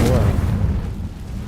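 A Confringo explosion spell in Hogwarts Legacy, a loud close boom with a low rumble that fades across a second and a half.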